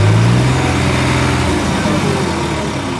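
A New Holland 3630 Special Edition tractor engine idles nearby at low revs, a steady continuous diesel drone that stays loud and even throughout.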